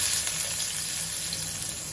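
Mustard seeds crackle and sizzle in hot oil during tempering with onion, a steady close frying hiss with no talk.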